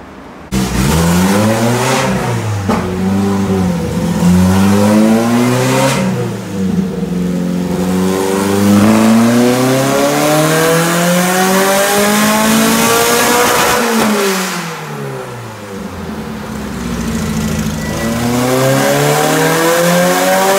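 Nitrous-fed AWD Honda engine revving hard during tuning, loud and close, with repeated rising and falling sweeps and sharp throttle blips across the run, and no talking.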